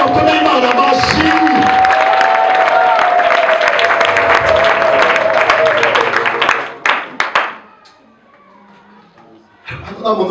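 A church congregation at Pastor Mukomeza Maurice's service bursts into loud applause and cheering over a sustained musical tone. The noise cuts off abruptly after about seven seconds, leaving a quiet lull before clapping returns.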